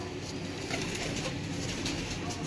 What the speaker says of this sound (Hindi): बस थोड़े से कबूतर ही आपको दिखा लें